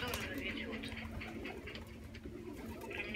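A sick pigeon coos softly in low, rolling murmurs close by, with a person's voice nearby and faint background hiss.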